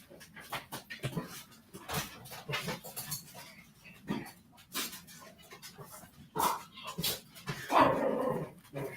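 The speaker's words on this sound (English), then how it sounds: "Now here's dog." A dog vocalizes close by in a series of short barks, pants and growly huffs of varying loudness, with a louder burst near the end and no talking over it.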